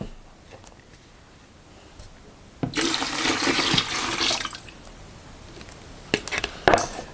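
Water pours into a jar of 90% neutral spirit to dilute it, a steady splashing stream for a couple of seconds, followed by a few short clinks and splashes.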